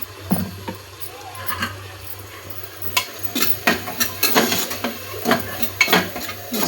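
A spoon works spiced stuffing for stuffed capsicum, seasoned with garam masala, coriander powder, turmeric and kasuri methi, around a pan in irregular scrapes and clatters over a low steady hum, with no talk.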